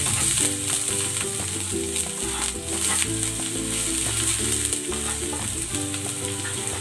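Spring onion whites sizzling with garlic in a pan while a sauce is made, a loud continuous frying hiss with stirring, over steady background music.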